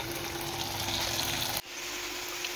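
Potatoes shallow-frying with Indian masalas give a steady, loud sizzle that holds evenly and then drops off suddenly, leaving a quieter hiss. Nobody talks over it.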